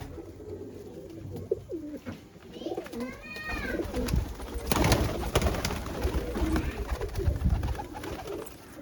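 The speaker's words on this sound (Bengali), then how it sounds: "তো দেখে নিন পায়রাগুলোকে ভালো করে।" Pigeons coo at a pigeon sale, soft repeated throaty calls near and far over a busy background of rustling and chatter-like noise, with a few sharp clicks.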